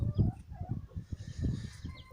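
Hens cluck in low, soft bursts at a working farm, a close, uneven run of short throaty calls with no talk over them.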